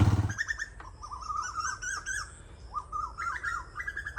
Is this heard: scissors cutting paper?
no